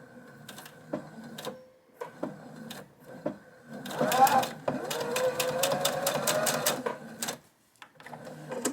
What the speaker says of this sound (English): start by stitching 3 stitches in place and then stitch around the edges of the coaster